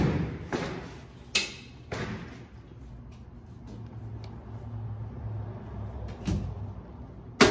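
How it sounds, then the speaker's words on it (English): Old jail cell door in a historic Tombstone building being pulled shut, with several heavy metallic thuds and clanks spread over a few seconds in a quiet room, and a final loud knock at the end. "So let me close this door."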